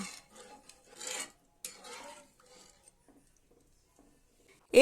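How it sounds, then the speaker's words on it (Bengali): A spoon scrapes and stirs through gravy thinned with water in a pan for an eggplant curry, in two short bursts of soft rasping, then near silence, and finally a sharp knock at the end. "জল দিয়ে গ্রেভিটিকে একবার ভালো করে নেড়ে নিতে হবে"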